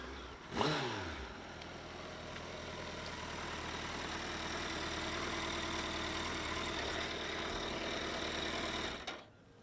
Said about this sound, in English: the engine is a 1340cc inline 4-cylinder fuel injected double overhead camshafts liquid cooled engine